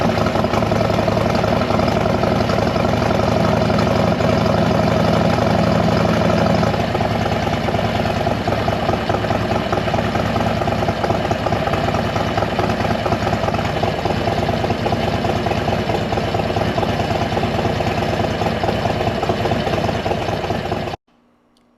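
A Harley-Davidson motorcycle with a Stage 4 build rides on a Central Florida road toward Leesburg, its engine a loud, continuous close rumble with wind noise, holding steady for about twenty seconds before cutting off abruptly.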